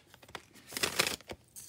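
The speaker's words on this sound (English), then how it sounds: "I don't know if you come to listen to the sound of the shuffling" Tarot cards being shuffled by hand, a run of quick papery riffles and soft slaps that swell into a denser burst midway, then trail off into a few lighter flicks, close and fairly quiet.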